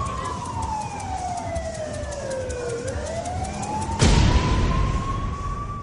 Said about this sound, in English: Within minutes, the ambulance arrives